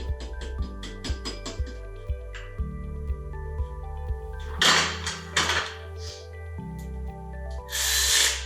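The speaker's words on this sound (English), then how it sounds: "Tighten that bolt down, as you probably heard." A power tool tightens a bolt on a BMW engine during a turbo teardown, giving several quick ratcheting buzzes and short whirring bursts, close and fairly loud, with a tonal hum and clunks between them.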